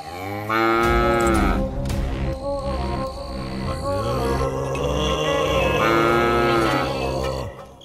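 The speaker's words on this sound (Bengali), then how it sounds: "এত রাতে গরু ডাকছে কোথায়?" A cow in a cartoon moos loudly at night, two long drawn-out bellows close by, with faint insect chirring in the background and no speech.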